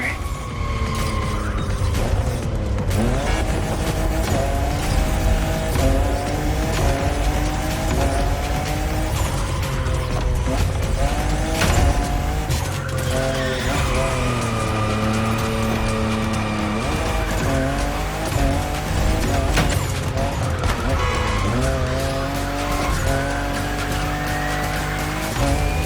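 A fifth-generation Toyota Supra races in a video game, its engine note sweeping up and down through gear changes while tires squeal and skid through corners, loud and continuous without talk.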